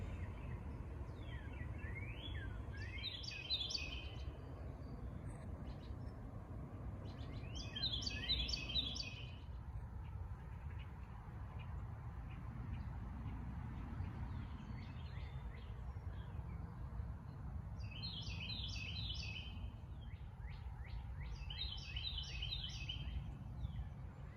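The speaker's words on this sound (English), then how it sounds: "Birds are just singing up a storm out here this morning." Songbirds in a garden on a June morning, bright bursts of chirping calls repeating every few seconds over a low steady outdoor hum, fairly close and alone without talk.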